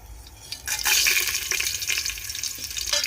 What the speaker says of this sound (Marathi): घी टाकलंय बघू शकता तुम्ही आता याच्यात आपण थोडीशी राय टाकूया